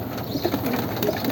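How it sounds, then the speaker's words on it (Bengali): Silver pattern pigeons in a loft cooing softly, with several low, rounded coos rising over a steady background hiss, close and moderately quiet. "কবুতরগুলো সুন্দর, এই যে সিলভার প্যাটার্নের কবুতর এখন কৌজি আছে"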